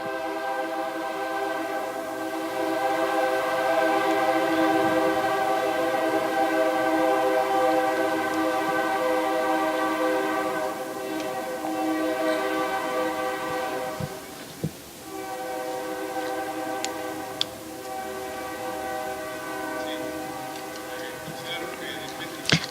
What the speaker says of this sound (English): We are going to wait for the train.